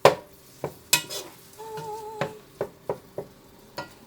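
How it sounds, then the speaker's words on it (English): Stirring meat for lasagna in a pan over a soft sizzle: repeated scrapes and clinks of a utensil against cookware, with a faint steady frying hiss underneath. "Let me get a little stir for my meat. If I hear it sizzling."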